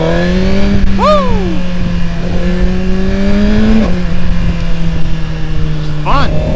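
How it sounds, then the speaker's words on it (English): A 2025 Suzuki GSX-R1000R motorcycle engine droning steadily during a ride, close and loud under wind rush, with brief rev changes as the rider shifts and occasional voice sounds. "Sounds like a good bike, real bike."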